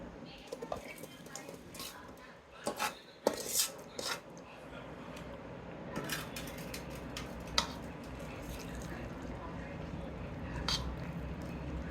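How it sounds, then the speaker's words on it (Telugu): A tamarind and tempered oil mixture is stirred in a pan, with scattered clinks and scrapes of a spoon against metal, a few sharper knocks early on, close and moderately quiet beneath a low voice. "తాలింపు పెట్టుకున్నటువంటి నూనె మిశ్రమాన్ని కలుపుకుంటున్నాను"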